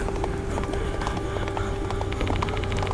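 Galloping horse hooves from the game Spirit Hunter: Death Mark II pound in a fast, steady clip-clop rhythm, close and loud, with no talk over them.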